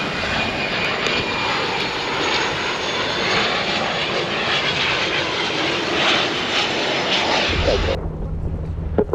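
A NetJets Europe Cessna 560XL Citation XLS lands on runway 27 at Gibraltar with a loud, sustained jet roar and wind rush. The roar cuts off sharply near the end.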